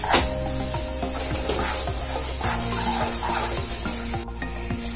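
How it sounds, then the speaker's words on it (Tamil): Moong dal being stirred in a pan for halwa, a continuous dense sizzle and scraping texture with rhythmic strokes of the spoon, close and fairly loud, no voices. "இது ரெண்டு நிமிஷம் ரெண்டு நிமிஷம் கிண்டினா போதும்"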